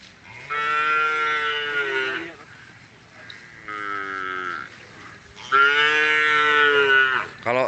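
Small bulls or cattle at a karapan sapi bull race training ground let out three long, loud, close moos, with short pauses between the calls.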